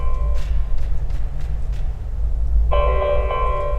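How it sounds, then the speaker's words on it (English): EverQuest 2 out-of-range alert bell chiming over steady low game ambience, one bright tonal ring entering late and sustaining, with no speech. "Every time you hear that bell, that's telling me I'm not close enough to interact with that object."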